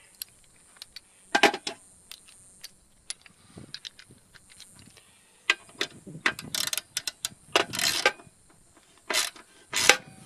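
Small metallic clicks and ratcheting bursts come and go irregularly, close up, as bolts are tightened to snug a surplus aluminum tail box down onto a KLR-650 motorcycle.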